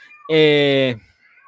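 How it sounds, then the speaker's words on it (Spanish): A single drawn-out cat yowl during mating, loud and close, rising and holding for about two thirds of a second before cutting off, with faint background sound around it. "Hoy los gatos están haciendo el amor."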